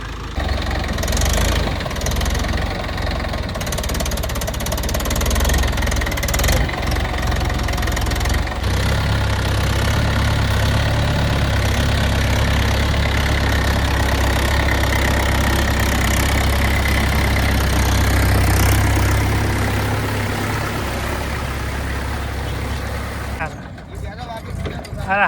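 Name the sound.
Mahindra 575 tractor engine running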